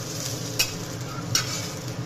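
Ginger, garlic, green chilli and curry leaves frying in a pan for a ridge gourd peel chutney, a soft steady sizzle with two sharp scraping stirs of a spoon, no speech.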